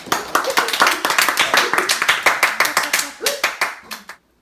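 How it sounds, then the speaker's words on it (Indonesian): A small audience at a student organization talk event claps in a quick, fairly loud run of distinct hand claps, with voices talking over them until the sound cuts off abruptly. "Ya tepuk tangan nih."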